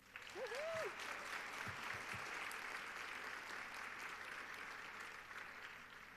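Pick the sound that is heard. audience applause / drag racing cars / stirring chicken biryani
audience applause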